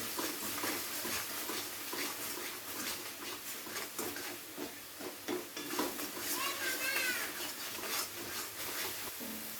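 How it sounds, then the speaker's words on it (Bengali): A spoon scrapes and stirs spices into tomato and onion in a pan for an egg curry, making repeated close clinks and scrapes over a soft sizzle. "এবারে এই মশলাগুলোকে খুব ভালোভাবে মিশিয়ে নেব টমেটো আর পেঁয়াজের সাথে"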